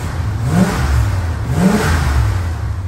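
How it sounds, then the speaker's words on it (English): A Mopar big-block car engine, cold-started after sitting two months, revs twice in quick succession, each blip rising and falling over a steady rumbling idle, close and loud with no voices. "Mopar big block, you can't beat it"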